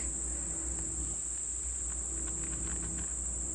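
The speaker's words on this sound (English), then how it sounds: "The cicadas are going off." Steady, high-pitched droning buzz of cicadas, continuous and unbroken, with a faint low hum underneath.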